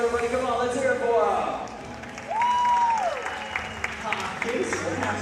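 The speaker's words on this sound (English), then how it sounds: "Keep it going for William Casey, though, everybody." Sustained crowd applause for a competitor at a timed event, dense clapping and scattered cheers running throughout, briefly dipping before swelling again, with a host speaking over the noise.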